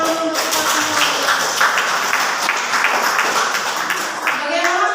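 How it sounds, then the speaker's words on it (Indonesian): A room of participants applauds together in a steady, dense wash of clapping, with voices talking over it throughout. "Beri tepuk tangan untuk kita semua."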